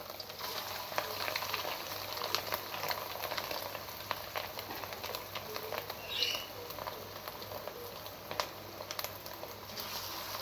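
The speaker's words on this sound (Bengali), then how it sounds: "আমি আস্তে আস্তে করে এরকম করে সবগুলো একে একে ভেজে নেব।" Fritters of fish roe and bottle gourd fry in hot oil with a continuous fine crackling sizzle and scattered sharper pops, steady and close throughout, with no talking.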